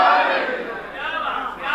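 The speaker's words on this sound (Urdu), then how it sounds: "پیچھے آواز آ رہی ہے حیدری۔" A large gathering at a religious majlis in Sargodha, Pakistan, shouting together in a sustained, loud, roaring chant that swells and dips over its short span.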